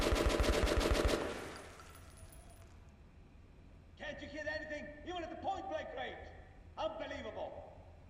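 Rapid bursts of gunfire from the video game Metro Last Light Redux, a dense loud volley at the start fading out, followed by a quieter stretch with game sounds and talk.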